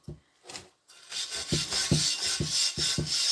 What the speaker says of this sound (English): the pumice stone is going to come to the rescue